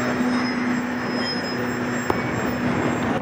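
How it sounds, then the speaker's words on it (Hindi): Inside the Karachi Express on a thick smoggy day, a dense, steady rumble of rolling wheels runs under a sustained tonal hum and a single sharp metallic clank, with no clear squeal. "ये गाड़ी को ब्रेक लग गया है"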